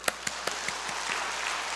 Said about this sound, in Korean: 한번 박수 칩시다, 박수